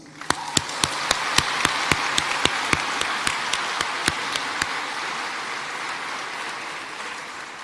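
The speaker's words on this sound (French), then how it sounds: "ce concert d'applaudissements" Audience applause after a formal address to council members fills the clip as a dense, steady wash of clapping, with sharper individual claps standing out near the front during the first few seconds before the sound settles into an even roar.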